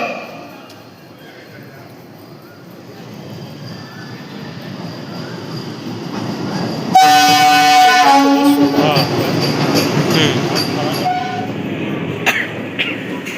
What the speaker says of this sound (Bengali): এই আমাদের ট্রেন আসছে।